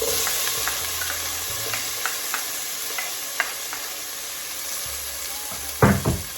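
Onions and tomato sautéing after browned garlic and grated ginger, in a pan for a sweet and spicy coconut milk salmon dish: a soft, continuous sizzle carries light stirring taps, then a couple of louder utensil knocks near the end.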